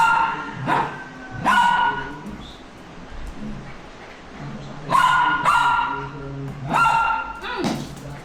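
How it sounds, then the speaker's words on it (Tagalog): A playful dog lets out several short, loud barks and yips in bursts, with quieter gaps between them, close by during breakfast at home. "Nakakatuwa itong aso na to. Nagkikipaglaro."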